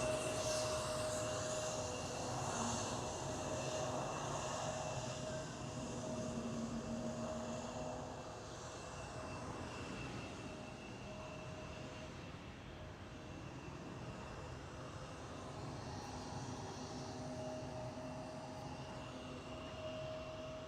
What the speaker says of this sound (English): KLM City Hopper E175.